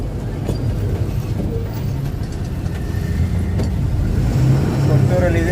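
Vehicles moving at the Kottur fair in daytime, a loud close engine rumble and road noise rising toward the end, with voices of the crowd mixed in.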